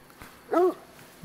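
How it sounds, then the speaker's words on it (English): A dog in TheHunter: Call of the Wild gives a single short, sharp bark at a lion, loud and close against a quiet background. "The dog scared the lion."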